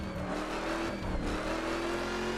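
A maxed-out car's engine in The Crew racing game holds a steady, loud revving drone with rising and falling tones, running continuously and alone.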